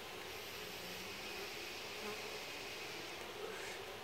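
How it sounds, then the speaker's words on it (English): Dense, continuous buzzing of many honeybees at a hive, an even swarm-like drone heard up close without any voices. "I think these are happy bees."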